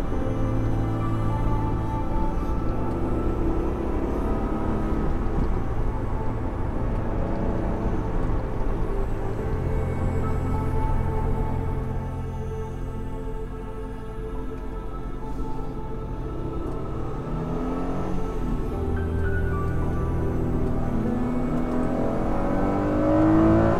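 An Acura NSX on a test drive after a clutch slave cylinder replacement, its engine droning steadily as revs climb and fall through the gear shifts, with no talking.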